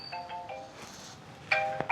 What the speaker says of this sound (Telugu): మా ఫోన్ వస్తుంది